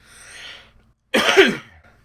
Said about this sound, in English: I feel really bad about the coughing.